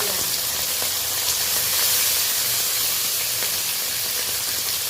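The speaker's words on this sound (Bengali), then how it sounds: "তেলটা বেশ গরম হয়ে গেছে তেল থেকে ধুঁয়ো বেরিয়ে যাচ্ছে এই পর্যায়ে আমি মাছগুলো ভেজে নেওয়ার জন্য মাছ তুলে" Mourola fish fry in smoking hot oil, a dense, steady hiss and sizzle that stays even and close throughout with no talking.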